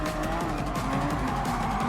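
A Porsche 911 race car roars at a race start in Gran Turismo Sport, its engine droning loud and steady with tire squeal layered over it.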